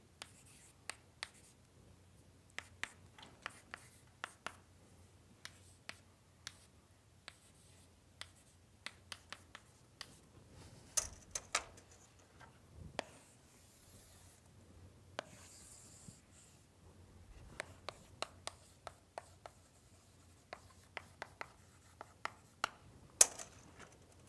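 Chalk or marker strokes on a board during a university lecture on numerical methods come as faint, scattered taps and scratches, sometimes in quick clusters, over a quiet room.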